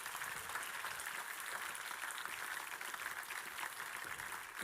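Faint, steady applause from an audience at a venture award ceremony, a dense patter of many hands clapping continuously and heard from a distance.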